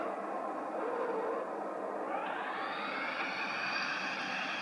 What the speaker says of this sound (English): here I am going to land, and here I go the landing gear